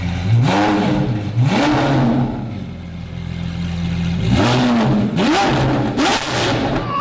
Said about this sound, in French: Anna, essaye d'accélérer un peu